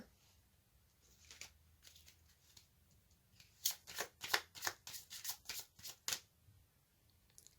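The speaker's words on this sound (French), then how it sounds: "je vais tirer une carte de l'oracle aromatique" Aromatic oracle cards being shuffled by hand, a quiet stretch of soft riffling that turns into a quick run of about a dozen crisp card slaps and flicks, close and alone.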